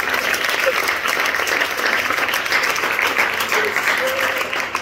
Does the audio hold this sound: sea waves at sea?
no